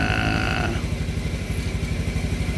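A Honda Beat 110 motorcycle engine idles close by with a steady, rapid chugging pulse, loud and continuous, with a higher whine fading out early on.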